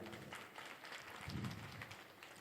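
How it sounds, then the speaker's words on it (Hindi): Audience clapping at a Shrimad Bhagavat Katha religious gathering, a brief faint wash of applause with a slight swell midway, heard from a distance. "एक बार जोरदार ताली"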